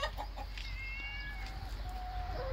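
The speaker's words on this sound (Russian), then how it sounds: "Что-то он все равно кукарекает" A rooster crows nearby in a drawn-out, wavering call over quiet background noise, with faint clucks just before it.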